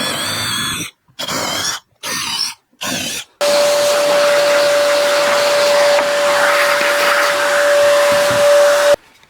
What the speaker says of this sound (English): I'm going to put a 7 mil hole through there